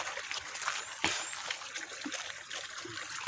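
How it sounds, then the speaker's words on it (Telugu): Water trickling along a village canal beside fields, a continuous soft bubbling flow with a small splash, heard close and alone. "పక్కనే వాటర్ వెళ్ళిపోతున్నాయి"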